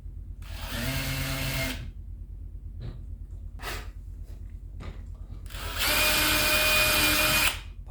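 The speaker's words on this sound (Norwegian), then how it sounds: "Bare merker jeg hvor jeg skal borre." A power drill bores into a wooden kitchen cabinet door in two close bursts, with faint taps and breathing between them.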